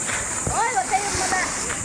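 Children splash in shallow sea water at a beach during a Bicol vacation, with short irregular splashes under a child's high-pitched voice, fairly close by.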